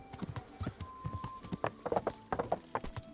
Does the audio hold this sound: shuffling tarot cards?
no